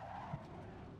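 Brief tyre skid as a race car spins out in a racing video game, a short smeared screech over steady engine drone, with a single thump partway through.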